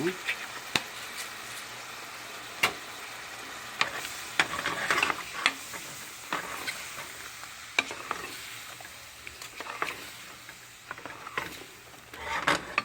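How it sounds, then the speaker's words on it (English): Pheasant-back mushrooms sauté and simmer in a pan, a soft continuous sizzle broken by repeated sharp clicks and scrapes of stirring against the pan at an irregular pace. "this type of mushroom is really dense, so we're going to let this kind of simmer and really cook thoroughly"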